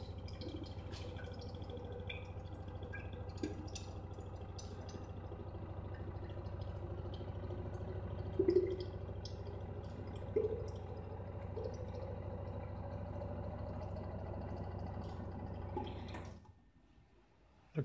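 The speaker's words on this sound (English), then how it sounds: "So as far as you keep it pressed, the yogurt flows." A Milkbot machine dispenses yogurt in a long, steady stream that trickles and hums for about sixteen seconds, close by and fairly quiet. It stops abruptly near the end.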